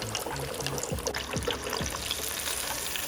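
Catfish fried in batches in hot oil in a pan for a honey fried catfish dish, giving a steady, close crackling sizzle with a few soft clinks over it.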